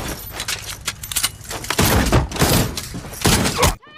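A fierce movie shootout with a dense burst of gunfire, rapid overlapping shots and impacts, loud and chaotic before cutting off abruptly.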